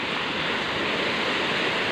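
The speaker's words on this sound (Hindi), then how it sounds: "मस्त झकास इसमें लहरें आती हैं।" Sea waves at Colva Beach in Goa make a constant, loud, even rush of surf with no clear breaks and no talking.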